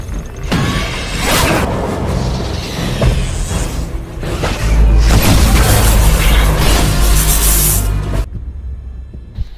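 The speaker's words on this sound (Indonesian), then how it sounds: "tembakan laser itu justru mengenai trafo yang membuat padamnya semua listrik" A laser shot strikes an electrical transformer in the film Aliens vs Predator, setting off a loud, sustained crackling burst with deep booming rumble that swells and then cuts off abruptly into near silence.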